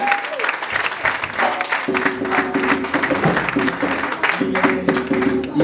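A church congregation applauds and cheers for the Lord, dense steady clapping from a crowd with shouts and music-like tones mixed in, loud and continuous.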